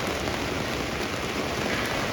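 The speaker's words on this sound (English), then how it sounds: "Rain's supposed to continue for another couple hours, so we'll see what we can do." Heavy rain pours down steadily over a campsite, a dense, loud, continuous patter with no voices.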